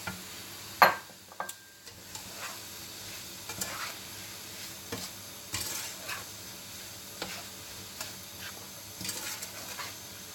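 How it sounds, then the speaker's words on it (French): Quiet, steady sizzling of apples with vanilla and sugar cooking gently in a pan, with a sharp clink near the start and soft scattered stirring and tapping sounds. "je vais laisser mes pommes doucement cuire comme si je faisais une compote"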